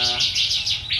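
A ciblek (prinia) songbird repeats rapid, bright high chirps in an even rhythm, close and clear with nothing else around it.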